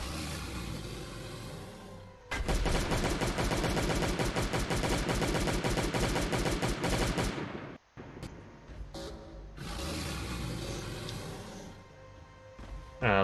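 A laser-sighted assault rifle in Last Day on Earth fires in sustained loud automatic bursts, one long stream lasting several seconds, a brief pause, then another extended burst.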